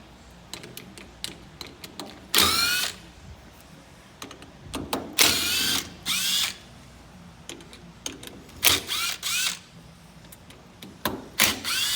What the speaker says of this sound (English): Now you're ready to take out your mounting bolts.